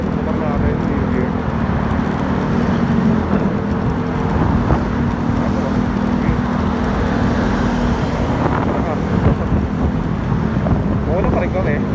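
A Yamaha Mio Gear 125 scooter engine drones steadily while riding on the road, mixed with heavy wind buffeting on the microphone, a constant loud roar with no pauses.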